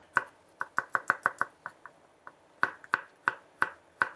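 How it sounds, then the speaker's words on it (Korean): A knife slices garlic into thin pieces on a cutting board during Chinese cooking prep: about twenty crisp, close chopping taps in an uneven rhythm, with a brief pause midway and no talking. "마늘 편 썰어 주시면 되겠습니다"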